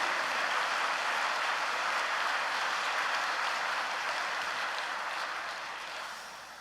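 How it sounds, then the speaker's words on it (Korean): A church congregation gives sustained applause of encouragement, a thick, even wash of many clapping hands that holds steady and then gradually tapers off at the end, with no voices over it. "우리 다 함께 천지인 참부모님께 격려 응원의 박수 보내드리도록 하겠습니다"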